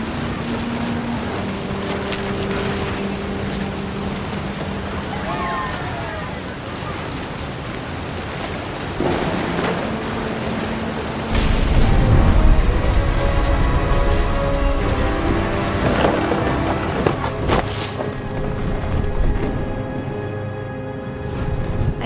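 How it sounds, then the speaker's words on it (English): Thunderstorm in the video game What Remains of Edith Finch: steady rain and wind noise throughout, with a deep rumble of thunder swelling louder about halfway and rolling on, under faint game music tones. "The thunder sounded much too close and full of angry power."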